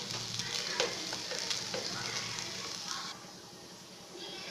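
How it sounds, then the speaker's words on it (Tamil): Black urad dal sundal being stirred in a pan with sesame oil after the stove is switched off: steady close sizzle with frequent light scraping clicks from the spoon, easing slightly toward the end. No one speaks. "நல்லா கலந்து விட்டுருங்க."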